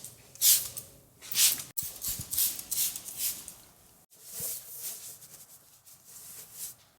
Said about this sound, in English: So we're just gonna spray it on and spread it out.